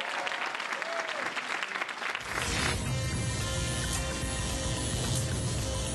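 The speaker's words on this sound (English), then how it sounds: "Again, one last big round of applause." Audience applause at a Dragon*Con 2012 convention panel claps steadily for about two seconds before a louder, denser wash of sound takes over.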